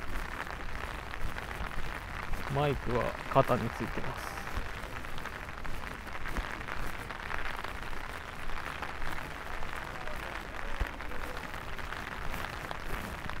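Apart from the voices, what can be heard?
raindrops pattering on an umbrella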